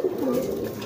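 A pigeon coos in a low, throaty burst up close, the soft warbling call rolling steadily through the brief moment without any talk.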